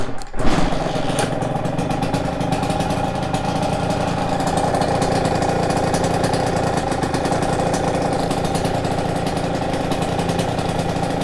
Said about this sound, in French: on va enfin pouvoir connaître le son de ce FMF Gold Series